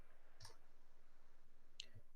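Two faint, sharp mouse clicks about a second apart on a chart in a report view, over quiet background hum.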